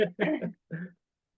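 A short throat clear followed by a single cough, close and fairly loud, then silence.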